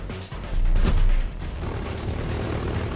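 A P-51 Mustang fighter plane fitted with a Rolls-Royce Merlin 12-cylinder liquid-cooled engine drones past, loud and steady, swelling briefly before settling into a continuous rumbling roar.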